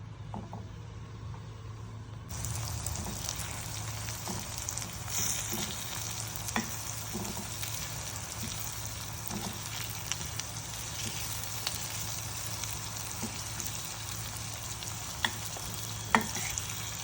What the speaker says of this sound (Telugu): ఇప్పుడు ఈ ముక్కల్ని ఫ్రై చేసుకోవాలి.